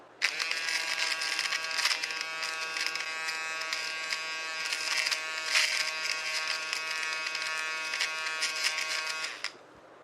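A small electric trimmer hums with a steady high-pitched buzz for about nine seconds, close up, then switches off.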